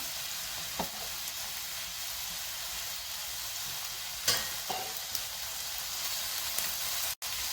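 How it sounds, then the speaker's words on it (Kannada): Vegetables, including capsicum, stir-frying in a pan for restaurant-style veg noodles: a soft, steady hiss broken by a few brief clatters of the spatula. "ಎಲ್ಲ ತರಕಾರಿ ಒಂದು 5ರಿಂದ 6 ನಿಮಿಷ ಫ್ರೈ ಮಾಡಿದ್ರೆ ಸಾಕು"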